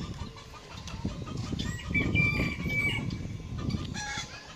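Several ornamental chickens at an exotic bird park in Yercaud cluck and squawk nearby, with a rooster-like call and brief wing flapping, no talking.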